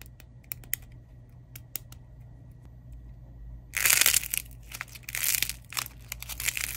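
Crispy dried clay from a clay cracking kit gets crushed and crumbled. Scattered small clicks come first, then loud, dense crackling and crunching bursts close by. No one speaks.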